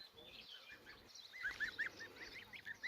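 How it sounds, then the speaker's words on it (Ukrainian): Small, slightly grown goslings peep in a cluster of thin, high chirps, faint and close, starting sparse and then coming in quicker repeated calls near the end. "Це ось такі малесенькі гусята."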